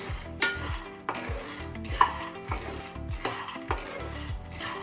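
Peanuts roast in a pan over a slow flame and are stirred with a utensil, giving repeated scraping strokes every second or so over a light dry crackle, close and fairly loud.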